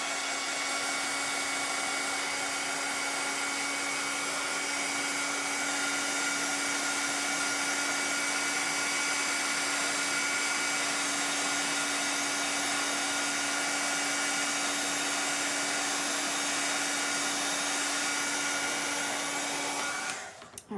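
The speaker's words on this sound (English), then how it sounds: "I'm gonna run the dryer on it real quick" A hair dryer blows continuously at close range, a steady whooshing roar with a faint whine, cutting off abruptly at the end.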